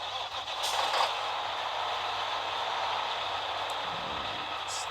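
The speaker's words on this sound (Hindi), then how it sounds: "चलिए ले जाएंगे ट्रक को।" A truck in a cartoon truck-builder video game drives along with a steady, broad engine drone and a faint hiss that hold evenly for several seconds, with no talking.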